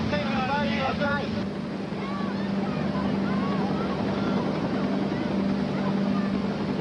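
A rescue boat's engine drones steadily on open water during a balloon rescue, pitching in rough conditions, with wind buffeting the microphone and shouted voices over it.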